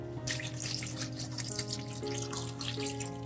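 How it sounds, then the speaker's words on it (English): Water pours steadily from a tap or jug into a cooking pot, a continuous splashing gush heard up close, with a faint background hum beneath it. "So let me add 2 more cups of water."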